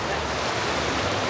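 Surf in the Typhoon Lagoon wave pool at Disney World, Florida, a dense, continuous rushing wash of water close by, with no talk over it.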